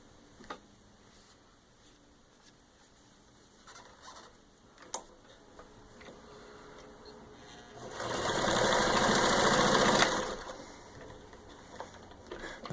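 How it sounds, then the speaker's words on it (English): A serviced vintage Singer 66-16 sewing machine stitches through six layers of denim in one steady mechanical burst lasting a couple of seconds, close and fairly loud, with quiet clicks and handling noises before and after. "basically I'm just going to show you its stitches. Got 6 layers of denim"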